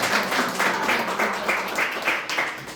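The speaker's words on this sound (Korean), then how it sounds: "우리 박수로 환영해 주시기 바랍니다." A small church congregation applauds warmly during a Sunday service, a dense patter of hand claps sustained for a few seconds, fairly close.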